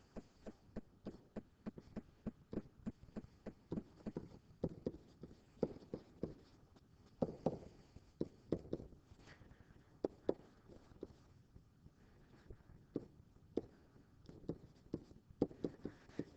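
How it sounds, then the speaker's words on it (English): Hand-drawn graph lines being sketched for sine and cosine curves, a steady series of short scratchy pen or marker strokes in quick rhythm, close and fairly quiet, with no talking. "So I'm just going to draw these here."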